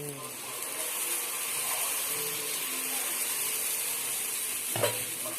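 Dosa batter on a hot pan, a soft, steady sizzle with a faint clatter near the end, while a voice talks quietly in the background.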